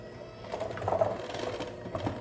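Brownie cookie dough with chocolate and salt is mixed with a steady, whirring, motor-like churn, moderately loud and close, with no talking.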